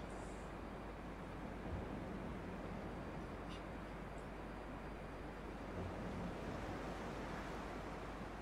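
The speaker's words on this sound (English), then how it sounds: "Especially could hear the ocean." Steady ocean surf rolls along the shore in Dear Esther, a constant, low and fairly faint wash of waves with a few small ticks and no voices.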